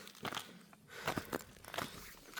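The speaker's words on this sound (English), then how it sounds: "The crunching is the ice." Ice crunching underfoot on a snowy morning mountain hike, a few soft, uneven crunchy steps at close range in otherwise quiet surroundings.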